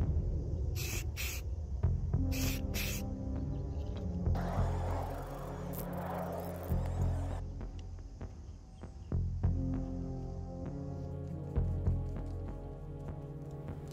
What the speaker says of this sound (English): First, I will be using a flat white primer spray to prime the letters